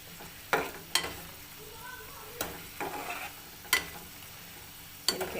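Chicken filling for roll paratha cooks in a small amount of oil, a soft sizzle punctuated by sharp, irregular spatula scrapes and clicks against the pan, close by with no talking.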